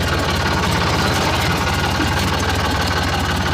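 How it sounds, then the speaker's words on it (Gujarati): A tractor engine runs in a farm field in rural Gujarat before plowing, a close, steady, low rumbling drone with a constant throb and no break. "આપણે હવે ટ્રેક્ટર લઈને છે હળવા"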